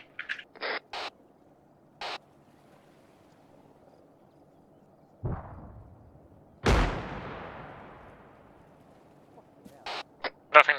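Distant gunfire from aircraft engaging ground units in the Arma 3 military game, a few sharp isolated shots and a louder rolling boom that decays slowly, separated by near silence with short higher chirping sounds.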